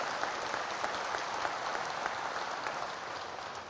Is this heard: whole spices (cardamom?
no